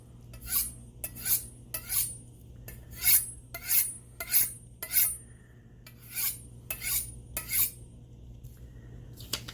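A Wüsthof or Henckels kitchen knife is drawn across a sharpener in short, bright rasping strokes, about a dozen passes in an uneven rhythm, close and alone against a low hum.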